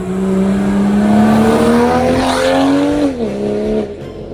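Loud exhaust from a BMW M240i with a B58 engine and catless downpipe, a rising raspy drone building steadily for about three seconds before the revs drop and settle, heard close with no talk.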